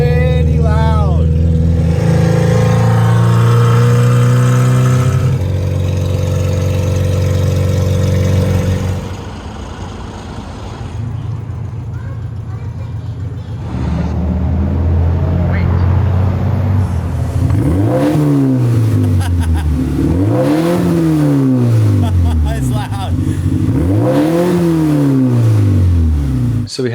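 A Suzuki Samurai with a Flashark full exhaust idles roughly, then revs repeatedly in rising and falling sweeps, the exhaust booming close by.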